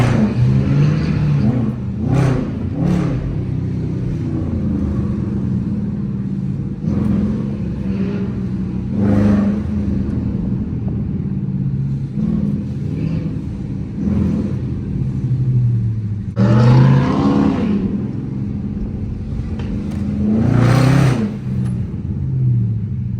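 A Dodge Charger R/T with a 5.7-litre V8 in manual mode revs repeatedly while driving in the city, loud close-up engine roars rising and falling in several bursts over a steady rumbling drone.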